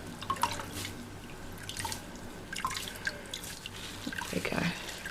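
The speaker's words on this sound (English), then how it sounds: "Let's wring out the soap a bit." Soapy water dripping and splashing while a wet Scruff-a-Luv plush toy is wrung out by hand, with irregular close drips and small trickles at a low level. No one speaks.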